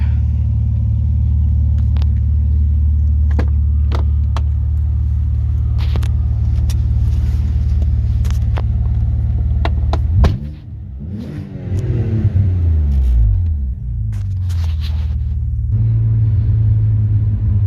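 An Alfa Romeo 147 GTA Selespeed with the Busso V6 on a road test drive, a loud deep engine drone under cabin rumble, rising in pitch through revs and gear changes around the middle before settling back to a steady cruise.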